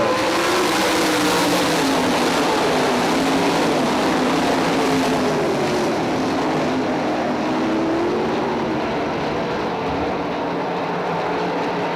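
Sprint cars roar around the dirt oval at I-96 Speedway on a green-flag restart, a dense, continuous engine drone with rising and falling pitch as the pack passes, loud and steady throughout.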